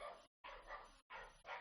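A dog barks and yips in three short bursts, separated by brief silences, heard fairly faint in a home setting.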